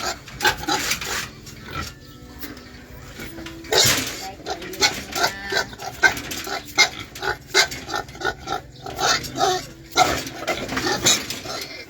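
Pigs squeal and grunt in loud bursts while being caught and loaded during a farm pickup, mixed with scuffling, rubbing and clattering handling noises throughout.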